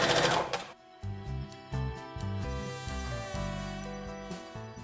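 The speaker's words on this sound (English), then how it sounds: "So I'm just going to go ahead and do a regular stitch" A sewing machine running a regular straight stitch on a baby sweater romper, a quick rhythmic mechanical whir in several short bursts with pauses between them, close and without talk.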